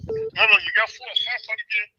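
Telephone tones sound on a call-in line while another caller is merged: a short series of electronic beeps and chirps, close and clear, with no talk over them.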